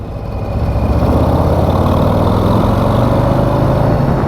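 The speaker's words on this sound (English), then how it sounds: "This stock exhaust sounds like trash" A motorcycle with its stock exhaust idles up close, a steady loud low rumble that swells in the first half second and then holds even.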